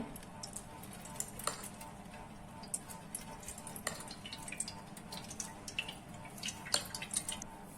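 Faint, irregular drips of water from washed sesame seeds in a strainer patter sparsely against a low background hum, each drop a soft, brief tap.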